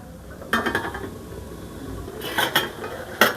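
A metal lid set down over a pot of Tamil-style egg curry, with a few sharp close clinks and a clatter of metal on metal, then a quiet pause before another brief clink.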